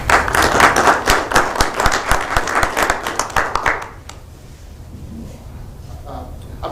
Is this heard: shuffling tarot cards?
no